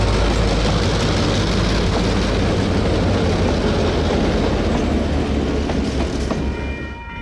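Steam train climbs out of Oamaru, New Zealand, on a South Island tour, a loud, dense, continuous roar of engine and rolling wagons close by, easing slightly at the end.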